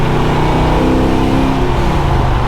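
A 1955 Chevy with torque steer accelerates on the road, its engine note loud and close, a steady rising drone with no talking.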